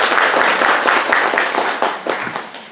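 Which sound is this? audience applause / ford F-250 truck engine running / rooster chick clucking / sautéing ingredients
audience applause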